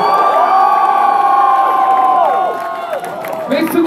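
A crowd at a concert at Fryshuset in Sweden on 17 April 2017 yells and cheers loudly and steadily, with whoops and shrill voices in a dense mass that dips slightly near the end before swelling again.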